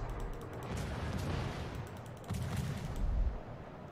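Heavy naval gunfire rumbling from warship batteries in World of Warships, low booming salvos rolling continuously with a stronger burst near the end, no voices.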